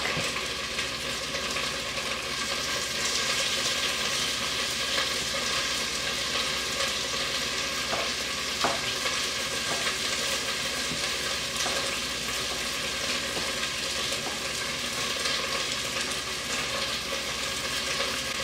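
Pork sizzling steadily in a frying pan during home cooking, a continuous dense crackle with occasional louder pops and light stirring, close and unbroken throughout, with no talking.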